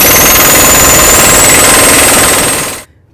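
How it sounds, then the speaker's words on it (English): Axle nut on a Chrysler Town & Country front wheel hub being run down with a loud, close impact gun: a continuous hammering rattle with a high whine, stopping abruptly near the end. "Take your axle nut. We're going to tighten this just until it bottoms out"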